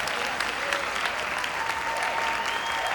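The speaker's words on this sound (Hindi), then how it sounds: "एक बार जोरदार तालियों के साथ सुदीप का स्वागत करें।" Enthusiastic audience applause welcoming poet Sudeep Bhola at a Hindi comedy poetry gathering (kavi sammelan), a dense, steady wash of many hands clapping throughout, close and full with no pauses.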